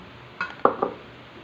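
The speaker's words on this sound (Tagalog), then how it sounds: "I-mix natin siya sa isang bowl" A few clinks of utensils against a bowl while fruit salad ingredients are mixed, three short knocks in a quiet kitchen.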